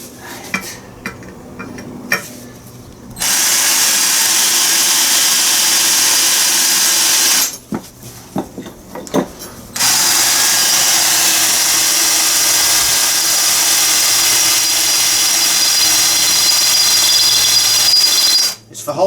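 A power drill whines loudly in two long sustained bursts while drilling holes for a 1972 Triumph Spitfire body rotisserie, separated by quieter pauses with faint handling noises.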